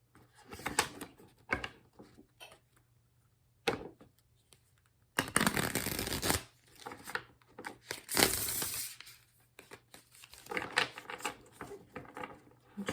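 A Light Seers Tarot deck being shuffled in an echoey room, papery riffling and rustling bursts separated by quiet pauses, close to the microphone.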